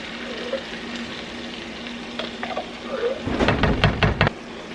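Beans, with a little of their liquid, tipped into a hot pan for tacos and sizzling, a soft steady fry that bursts into louder crackling and spattering near the end.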